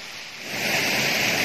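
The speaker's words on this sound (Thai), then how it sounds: "ฝนตกยางนักเลยจ้ะ" Heavy rain pours steadily over a forest in the Thai countryside, a dense, loud wash of broadband hiss that swells slightly after the first half second and continues without break or voices.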